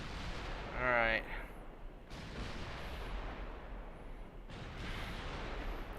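Naval guns fire armor-piercing shells in Ultimate Admiral Dreadnoughts: a sharp boom leads into a whistling shell flight, followed by two more heavy reports with rumbling tails, under a low voice and steady background noise.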